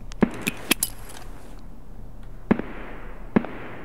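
Gunfire in the video game Customs 1v4 comes as a handful of sharp, isolated shots, spaced irregularly over a few seconds, each cracking briefly over a low background hum.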